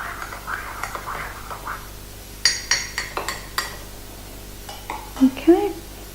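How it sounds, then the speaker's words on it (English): A metal spoon clinks against a cup while stirring sugar into freshly brewed Nespresso coffee, a handful of sharp taps and scrapes in quick clusters with brief talking at the start. "I tend to give it a little stir before I put the milk in"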